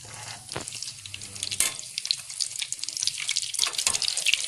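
Chicken bread cheese rolls frying in hot oil, a dense bubbling sizzle with crackling pops building steadily louder, with a few clatters early on and no talk.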